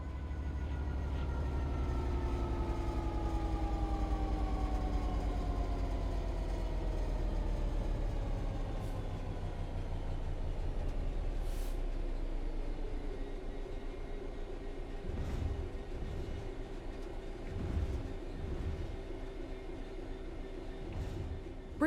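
In a train simulator game, a train coasts on level ground: a steady mechanical drone whose tones slowly sink in pitch as it gradually loses speed, fairly quiet, with occasional light clunks later on.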